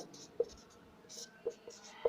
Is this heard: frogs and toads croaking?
no